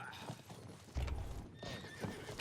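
A horse whinnies and hooves clop in the medieval battle game Conqueror's Blade, short bursts of neighing and thudding steps amid faint battle noise, all over in a couple of seconds.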